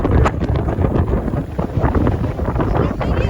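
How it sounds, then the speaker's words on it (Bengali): Strong wind gusting across Mandarmani beach and blowing sand, roaring loudly and unevenly against the microphone throughout. "হাওয়া দিচ্ছে প্রচণ্ড, আর বালি উঠছে এবং চোখে এসে লাগছে"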